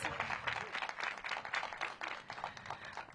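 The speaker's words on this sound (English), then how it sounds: "Please give her a round of applause." At a housing opening ceremony, a crowd gives a round of applause for former Maryland Lieutenant Governor Kathleen Kennedy, an even, continuous patter of many hands clapping, fairly faint and heard alone.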